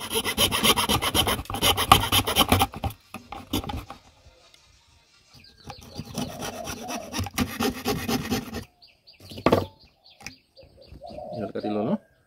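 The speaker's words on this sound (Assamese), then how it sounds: "এতিয়া আমি এই হেকচুখন দি পেলাই এইকণতে কাটি দিম।" A hacksaw cuts through bamboo in bursts of quick rhythmic rasping strokes separated by pauses, with pigeons or doves cooing faintly in the background.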